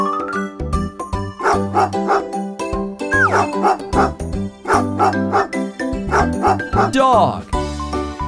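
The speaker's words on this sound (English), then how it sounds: "Dog." A cartoon-style dog bark sounds within a children's nursery rhyme song, set among jingling music and singing voices, with a short bark heard under the melody.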